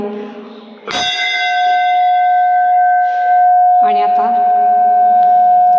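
A metal temple bell at Siddheshwar temple in Parner, Ahilyanagar, struck twice, each strike loud and close with a long, sustained ringing tone that carries on between and after the hits.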